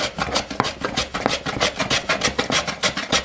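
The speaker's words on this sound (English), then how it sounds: "I'm going to slowly bring this down, thin shaving after thin shaving, until I get down near the surface." A hand tool shaves curly wood down toward the surface with rapid, rhythmic rasping strokes, about four or five per second, close and loud, with no talk.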